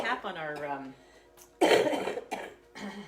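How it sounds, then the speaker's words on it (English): A woman coughs harshly several times during a qigong bone marrow tapping exercise, the hacking bursts close and loud, mixed with a throaty voiced sound and brief pauses. "you heard the coughing"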